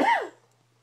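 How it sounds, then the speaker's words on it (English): A single short, hoarse cough up close, fading quickly into quiet room hum. "Why don't you cover your mouth when you're coughing?"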